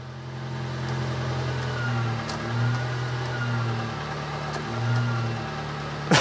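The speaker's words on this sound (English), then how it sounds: "I just can't get over the engine struggling with that." A 1992 Subaru Sambar kei truck sits with its small engine idling, a steady low hum that surges and sags at a slow, uneven rhythm as if struggling, fairly quiet and heard alone.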